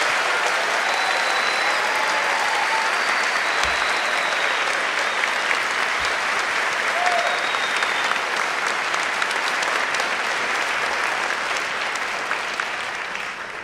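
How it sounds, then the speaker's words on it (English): A concert audience at the final of the Guthman Musical Instrument Competition gives a long, sustained ovation, a full roar of many hands clapping at steady volume that only begins to fade near the end. "please give one more round of applause for all these wonderful people"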